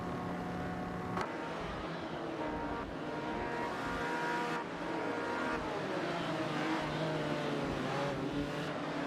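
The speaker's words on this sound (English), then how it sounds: "We are currently watching a racing simulation where artificial intelligence is controlling the cars." Engines of vintage supercars raced by AI drivers in a racing simulation at Spa, a continuous loud, droning roar with shifting pitch as cars pass and rev, no voices.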